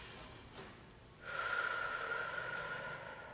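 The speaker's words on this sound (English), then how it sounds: "what helps me is like longer exhales" A long, slow exhale released to calm anxiety, a soft, close breathy rush that rises after a quiet start and holds steadily to the end.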